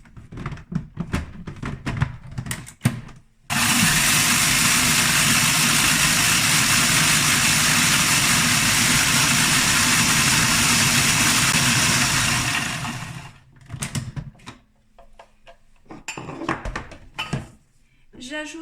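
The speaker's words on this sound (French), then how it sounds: "On va bien mixer le temps qu'il faut pour que ce soit bien moulu." Blender grinding buckwheat seeds into powder, a loud steady whir running about ten seconds before winding down, with kitchen clatter and handling noises before and after.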